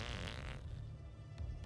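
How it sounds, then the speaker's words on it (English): A cartoonish fart from the South Park video game, a loud, low rumbling blast lasting about half a second, then fading into quieter background. "No, those farts don't bother me at all."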